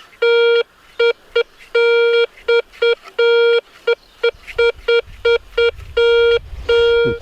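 A Garrett Ace 250 metal detector sounds loud, clear tones over a €2 coin in the ground, a rapid series of short and longer beeps in uneven rhythm, with faint rustling underneath toward the end.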